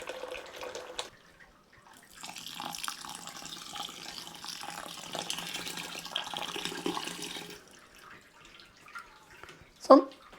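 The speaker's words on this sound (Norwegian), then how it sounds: "nå jeg snart ferdig med å skylle med 11 liter skyllevann" Sparge water runs out during home-brewing of an IPA beer, a soft, steady trickle and splash lasting several seconds between quieter moments, with a brief clunk near the end.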